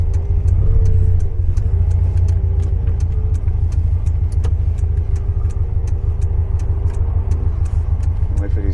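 A Volkswagen Beetle drives along the road, its air-cooled engine a loud, steady low rumble from inside the cabin, with rhythmic ticking over the top.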